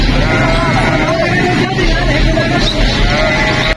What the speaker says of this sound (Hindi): बकरियों का एक और बड़ा रेवर से गुजर रहे हैं।